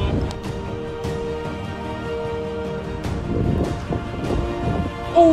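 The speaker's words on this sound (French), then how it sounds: "On est vraiment aux encablures de l'orage." During a July thunderstorm in Werbomont, Liège province, Belgium, steady rain patters while thunder rumbles and cracks at intervals, nearby and fairly loud, with no talk over it.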